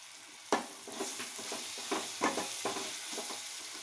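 Ginger garlic paste frying in a pan for an eggplant tomato curry, a steady close sizzle broken by several sharp scrapes and clinks of stirring, with no talk.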